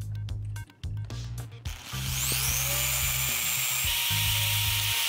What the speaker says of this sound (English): We will be using a drill and drilling a bunch of holes through the flash drive.